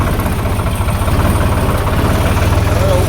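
A tractor engine idling steadily on a farm road, a close, loud low-pitched throb with an even rapid pulse throughout, no voices.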